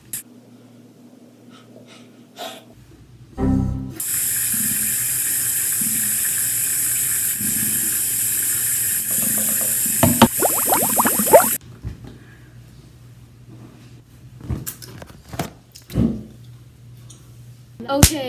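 Bathroom tap water gushing into a sink while makeup is washed off a face, a steady loud stream for several seconds with splashing and breathy sounds around it.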